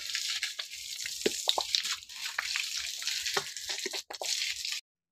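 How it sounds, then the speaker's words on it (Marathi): Water splashing and dripping onto leaves of flowering and fruiting plants during morning garden watering, a steady spattering stream with scattered drops and plops, fairly close, ending abruptly. "झाडांना मी पाणी घालत असते रोज सकाळ सकाळ."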